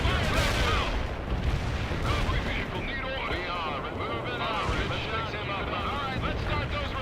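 Artillery fire support rumbles through a 2007 World in Conflict battle, a dense, continuous wash of booming blasts and gunfire with a voice speaking over the din.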